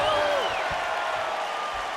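A capacity arena crowd in the UFC 4 fighting video game applauds and cheers after a round featuring a big knockdown, a steady, dense wash of clapping and crowd roar that fills the whole stretch.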